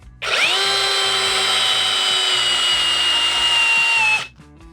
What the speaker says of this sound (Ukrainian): переставляємо на свердлення, спрацьовує трискачка